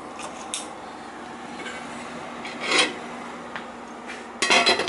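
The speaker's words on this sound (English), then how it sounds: "I'm stirring it" Zucchini and summer squash stirred in a cooking pot: soft scraping and clinks of a utensil against the pot, with a couple of brighter metallic knocks and a louder clattering burst near the end, close and moderately quiet.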